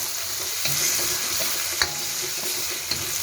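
Food being stirred in a hot frying pan: a steady, close sizzle with occasional scraping clicks of the utensil against the pan, no voices over it.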